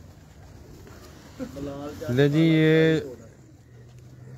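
Pigeons of a prized Pakistani breed coo on a Lahore rooftop, one rising throaty call swelling loud for about a second amid quieter background cooing, with someone speaking briefly.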